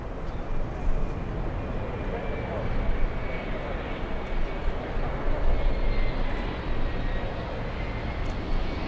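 A jet airliner landing at Miami International Airport gives off a steady, broad engine roar that swells slightly, with people talking nearby throughout.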